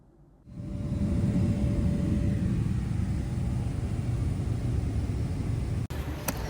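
Steady low cabin rumble of an airliner in flight to SF, a dense constant roar filling the space with a faint tone early on and a brief dip near the end, no voices.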